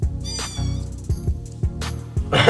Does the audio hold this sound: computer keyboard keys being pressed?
no